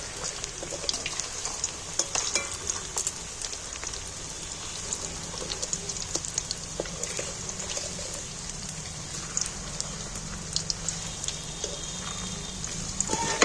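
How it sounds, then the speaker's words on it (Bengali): Pieces of jackfruit fry in hot oil for a curry, giving a soft, steady, rain-like crackle with scattered sharper pops throughout, fairly quiet and without talk. "দেখো আমি একটা করে উল্টিয়ে দিচ্ছি এক পিস করে এক পিস করে ভাজা হয়ে গেছে"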